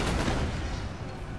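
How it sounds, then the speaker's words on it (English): Rifle volleys and Highland infantry fire crackle in a Napoleon Total War multiplayer battle, forming a dense, continuous wall of loud overlapping shots with no break. "So they're under fire from rifles and Highland foot."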